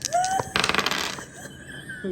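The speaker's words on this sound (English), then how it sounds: "It's just us rolling dice." Dice rattling and clattering during a tabletop card game, a quick burst of tumbling clicks after a brief tone, then settling into quiet.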